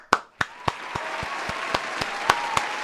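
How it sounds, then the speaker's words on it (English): Applause for a person named Indy Callier in a football chat show, sounding like a handful of sharp, evenly spaced claps with no crowd. "Let's get a round of applause."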